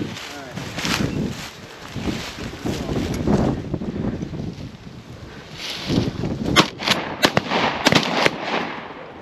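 A shotgun fires during a chukar and pheasant hunt at a game farm, sharp reports standing out late among wind noise, rustling and a handler's voice talking to a dog and companions.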